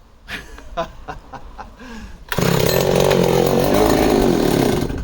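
After a few short pull-cord rattles and a voice, a chainsaw engine catches and runs loudly and steadily at close range, its rough buzzing continuing to the end.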